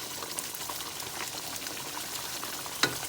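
Kofta meatballs fry in a pan with a steady, soft crackling sizzle as they are stirred, with a single sharp scrape or clink near the end and no talking.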